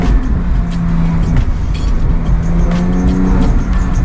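Porsche 991 GT3 driving with its engine revving, a loud busy engine drone with rising and falling pitch sweeps heard from inside the car, no talking over it.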